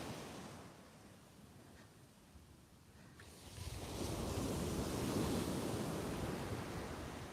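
Strong wind and surf on Magaluf beach in Mallorca make a broad rushing roar that swells louder midway and stays steady, with gusts buffeting the microphone and no voices.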